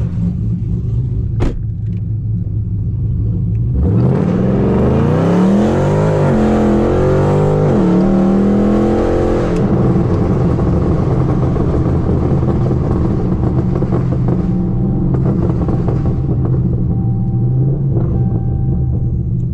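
Tuned E85 Dodge Chargers, a Scat Pack and an R/T, launching in a drag race: a loud engine roar rises through several gear shifts over a few seconds, then fades into a lingering rumble as the cars pull away.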